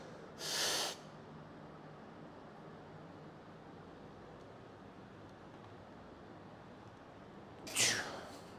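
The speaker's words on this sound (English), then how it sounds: "Big breath and brace." A lifter about to squat takes two sharp, close breaths through the nose, the first at the start and the second near the end, with quiet room noise between.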